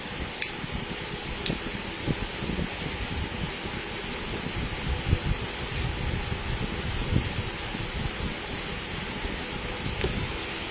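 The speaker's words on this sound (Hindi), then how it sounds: "पंखा चल रहा है ऊपर" An overhead ceiling fan runs steadily, a broad, even whooshing hum that fills the room at moderate level throughout, with a few faint clicks and knocks scattered on top and no talking.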